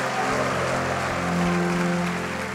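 A congregation at an evening prayer and anointing service claps in praise, a steady, loud, even wash of sound over a sustained musical drone.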